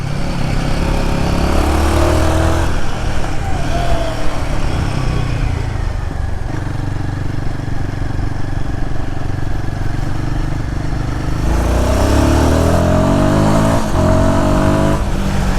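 A Royal Enfield Guerrilla 450 Apex motorcycle being ridden, its single-cylinder engine revving and shifting through gears with rising and falling pitch sweeps, loud and close, with wind rush between accelerations.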